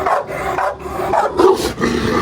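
A dangerous dog outdoors after rain gives a couple of rough, close barks and growling snarls with short pauses between them. No one speaks.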